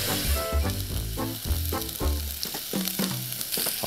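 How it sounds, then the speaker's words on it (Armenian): Onion frying in a pan alongside red lentils, with a loud, close sizzle and crackle and bursts of stirring over a steady hiss, while background music plays. "կավելացնենք սոխը"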